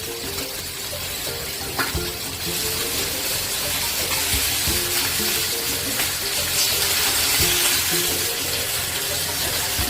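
Small chara fish fry in a pan after the lid is lifted, both sides browned: a loud, continuous hissing sizzle with a low hum beneath it and occasional faint clicks.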